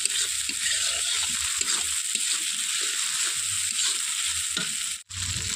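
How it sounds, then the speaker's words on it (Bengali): Mutton curry with chopped tomato and green chilli being stirred in a hot pan, giving a steady close sizzle and frying hiss with soft scraping strokes throughout, briefly dropping out near the end. "টমেটো কুচি ও কাঁচা লঙ্কা দেওয়ার পর হালকা নাড়াচাড়া করে"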